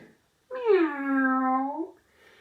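A single clear, drawn-out meow rises and falls in a garden, most likely a voice imitating a cat, with quiet stillness before and after.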